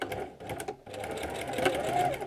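A sewing machine stitches and back-stitches the hem of an envelope cushion cover, its quick, rattling needle bursts running close and fairly quiet, with a brief pause, while a person speaks alongside.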